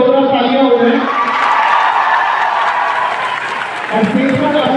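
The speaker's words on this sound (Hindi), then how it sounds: "तो उनको बुलाने से पहले एक बार उनके लिए जोरदार तालियां हो जाए।" An audience at a stage event in Prayagraj claps loudly for dancers about to perform, applause and crowd noise mixed under a man's amplified speech that continues throughout.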